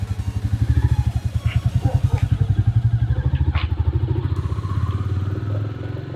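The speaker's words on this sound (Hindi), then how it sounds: "आवाज़ सुनो यार रॉयल इनफील्ड की, भाई दमदार है।" Royal Enfield Classic 350 single-cylinder engine idling and thumping close by in a steady, loud pulsing beat that rises slightly, with faint clatter and brief background sounds over it.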